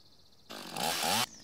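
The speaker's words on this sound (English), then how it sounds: "Cut the log in two pieces by using the chainsaw." A chainsaw in the video game Lumberjack Simulator revs and cuts through a log in a short, loud, steady burst lasting under a second, with no talk.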